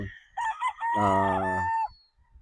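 A battle stag rooster on a game farm gives one loud, close crow lasting about a second, heard alone with no talk over it.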